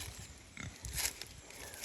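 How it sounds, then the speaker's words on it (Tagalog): A wild boar grunts in a forest at a camping resort, giving a few short, low snorting grunts that sound close but fairly quiet against faint outdoor background noise. "Baboy damo."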